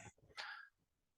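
A single sneeze bursts out in a quiet lecture hall, a short sharp sound that fades into room hush, preceded by faint murmuring.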